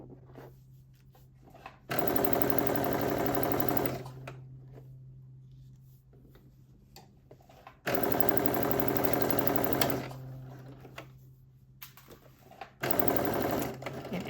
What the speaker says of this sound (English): after I stitch this, I'm going to use my serger to give it a more secure finish